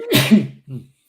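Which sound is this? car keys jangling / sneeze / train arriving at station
sneeze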